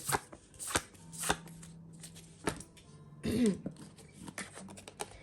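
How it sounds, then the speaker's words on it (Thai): Tarot cards handled and shuffled during a card reading, a run of crisp riffling snaps and slaps with short bursts and pauses, close and fairly quiet, with no talking. "ขออนุญาตหยิบไพ่แทนคุณ"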